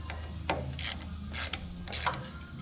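A ratchet wrench tightens bolts on the carburetor of a Craftsman LT2000 42-inch lawn tractor, making a few short clicking and rasping bursts at close range against a low background hum, with no talk.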